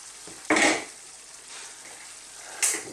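Beef stroganoff simmering in a pan gets stirred, two loud scraping, sizzling bursts over a low, steady bubbling.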